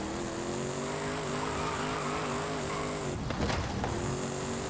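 Diesel-swapped 1,000-horsepower Mustang in Forza Horizon 5 launches with a steady droning engine note and squealing tires, the roar dipping briefly mid-launch before resuming, loud and close.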